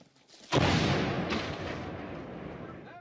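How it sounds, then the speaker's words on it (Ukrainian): A single heavy blast from an old World War II-era artillery cannon booms out suddenly, then a long rumbling echo slowly fades across open ground. "Гармата!"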